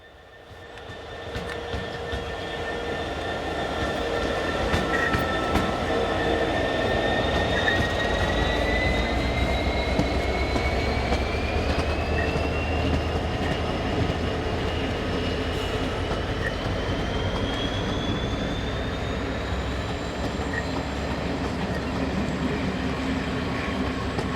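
A Class 66 diesel locomotive hauls a train along a heritage railway near Bridgnorth, rumbling steadily and loudly past from start to finish with a faint rising engine whine and no talk.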